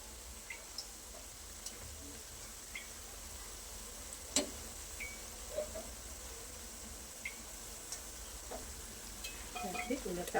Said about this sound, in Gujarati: એક બાજુ પલટ્યા પછી થોડી વાર માટે એને ફ્રાય થવા દઈએ।